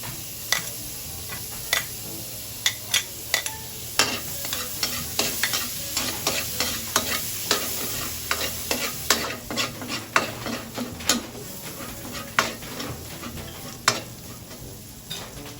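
Garlic sizzles in margarine in a pan while a utensil stirs and scrapes it, with a steady frying hiss under repeated close clinks and scrapes against the pan.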